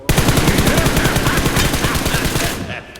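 Rapid automatic gunfire in a video game rattles out as a loud, close, continuous burst of evenly spaced shots lasting about three seconds, then fades.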